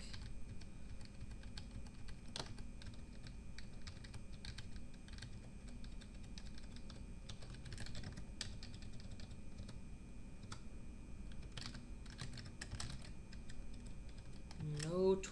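Rapid, continuous typing on a computer keyboard, a dense run of light clicks and taps close up with a few louder keystrokes scattered through.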